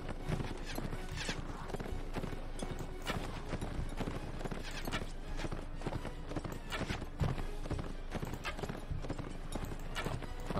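Horses gallop in the medieval battle game Mount & Blade Imperial Rome, with a dense, steady clatter of many hooves filling the scene without pause, loud and close throughout.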